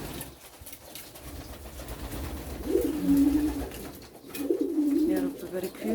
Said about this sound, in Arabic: شويه الحمام اللي لسه عندي اهو